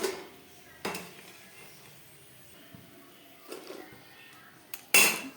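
Fried pea-pod pakoras are lifted from a pan one by one, heard as a few sparse metal clinks and scrapes of a utensil against the pan, with faint frying sizzle between them and no talk.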